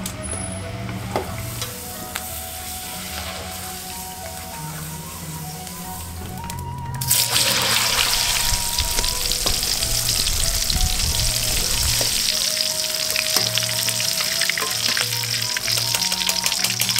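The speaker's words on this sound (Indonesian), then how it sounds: "Goreng aci" Aci tapioca fritters fry in hot oil at a street food stall in Kuningan, with a steady loud sizzle that swells and turns harsher partway through, alongside faint background clatter and no talk.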